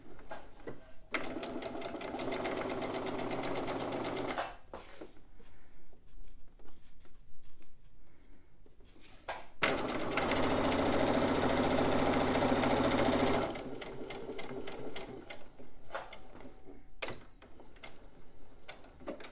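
A sewing machine runs a final seam on a fabric pencil pouch in close, loud bursts, several stitching runs separated by pauses with faint handling noises, the longest burst in the middle.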